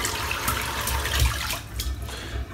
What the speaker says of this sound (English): I rinse it out right through the bristles, so I actually pour the water into the knot